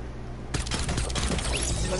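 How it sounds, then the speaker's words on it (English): Video game gunfire erupts after a short quiet lead-in, a rapid burst of sharp, loud shots that continues to the end. "I hear actual gunfire."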